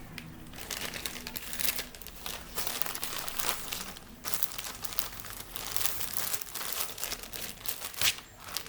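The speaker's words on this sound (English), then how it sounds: "you put your paper towel with the seed in it inside of a baggie" A plastic baggie holding a paper towel with a seed inside is handled up close, giving a quiet, irregular run of crinkling and rustling plastic over several seconds.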